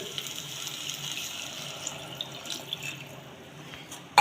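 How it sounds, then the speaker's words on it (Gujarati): A glass of water pours into a pot of millet, a steady soft splashing rush that continues for several seconds before a sharp clink at the end. "એક ગ્લાસ જેટલું પાણી રેડીશું આપણે અંદર"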